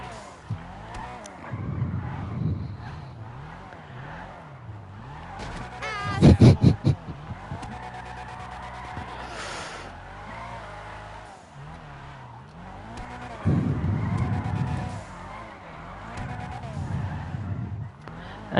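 Cars drift on a street in GTA Online, engines droning and revving under bursts of tire squeal, with a sharp loud screech midway and another squealing stretch later, while someone talks over it.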